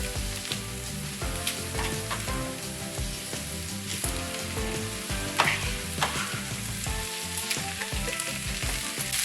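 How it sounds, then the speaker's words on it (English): Corned beef fries with softened onions in a pan, sizzling and crackling continuously and loudly, with frequent clattering spoon stirs and scrapes throughout and no speech. "once your onions are soft, you can go ahead and put in your beef."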